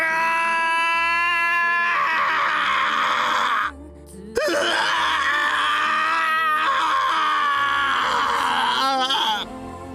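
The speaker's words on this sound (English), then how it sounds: "His scream of pain filled the sad cathedral." A male video-game character's anguished scream of pain, long sustained wailing cries close and loud, breaking briefly near the middle and then resuming, with a drawn-out moan over soft background music.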